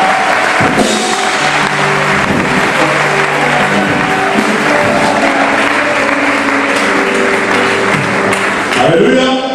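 Church congregation applauding and cheering as the pastor rises during a Sunday morning service, a dense, steady wash of clapping and crowd noise that fills the room from start to finish.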